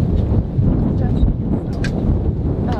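Wind buffeting a microphone aboard a sailboat offshore at sea, a steady rough low rumble with gusty swells, loud and close, continuous for a few seconds.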